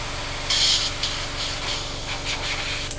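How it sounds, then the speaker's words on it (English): Airbrush cleaner blown through an airbrush while cleaning it between paint loads for a 1/32 Hasegawa P-40 model, a steady close airy hiss that runs the whole time with a brief louder burst near the start. "Airbrush cleaner again, and just blow it through."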